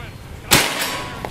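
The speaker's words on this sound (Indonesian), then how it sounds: "Tembakan pertama" A single sharp crack of a PCP air rifle shot (Bocap Predator Pajero Gun Gen 6, slug barrel) at a 50-meter range, close and loud, then a short fading ring over quiet background noise.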